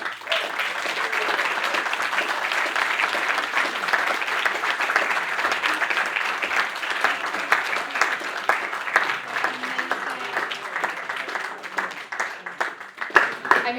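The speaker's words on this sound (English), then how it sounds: "that round of applause was very well deserved" A crowd at a science-and-beers evening in Odense applauds after a talk on Einstein's universe, with sustained, even clapping that carries on for many seconds before thinning slightly at the end.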